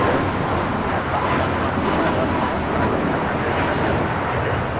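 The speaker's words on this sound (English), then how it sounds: "This is United Airlines 1863 taking off to Phoenix on the MAX 8." A United Airlines Boeing 737 MAX 8 takes off at Los Angeles airport, its jet engines giving a steady, broad roar that stays level throughout with some wind noise on the microphone.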